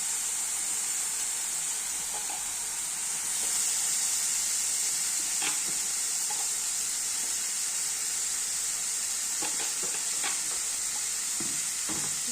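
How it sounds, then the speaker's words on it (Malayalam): Crushed idiyappam stirred in a hot pan, giving a steady, loud sizzle and hiss with occasional scraping clicks from the stirring, continuous and close. "ഇപ്പം ചേർത്ത് ഇങ്ങനെ നമ്മൾ വൃത്തിയായിട്ടൊന്ന് ഇളക്കുന്നു."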